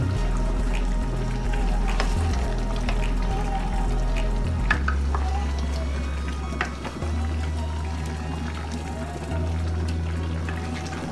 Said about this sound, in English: I'll have to give it a stir now